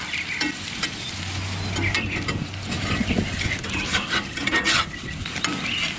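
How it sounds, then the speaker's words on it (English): Potatoes and onions browning on a grill, giving a loud, continuous sizzle broken by scraping and stirring sounds from a spatula. "I've got onions browning around the edge."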